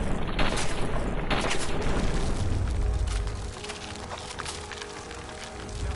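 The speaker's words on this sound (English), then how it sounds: "Rapid fire." Rapid bursts of gunfire in a shooting video game, dense crackling shots and booms rolling continuously at close range with no pause, easing slightly toward the end.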